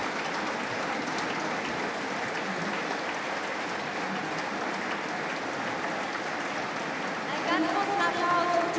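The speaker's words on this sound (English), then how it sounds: "Big applause, please." A large conference crowd at re:publica 2016 applauds for a sustained stretch, dense steady clapping filling the hall, with a voice starting to speak over it near the end.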